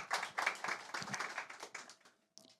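Audience at a KAIST startup tech plaza event clapping to welcome a presenter, a quiet patter of hands that fades out after about two seconds.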